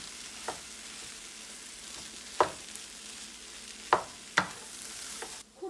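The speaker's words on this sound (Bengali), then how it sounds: "খুব ভালো করে আমি মিশিয়ে নেব।" Vegetable filling for Mughlai paratha being stirred in a pan: a soft steady sizzle with a few sharp scrapes and clicks of the spoon against the pan, quiet and close.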